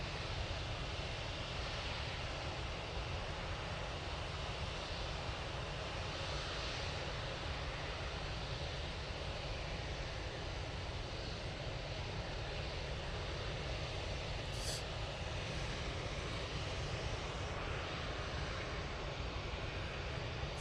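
TUI Boeing 787-8 Dreamliner pushing back at Manchester Airport, a faint, distant, steady jet engine rumble with broadband hiss that holds constant throughout, no voices.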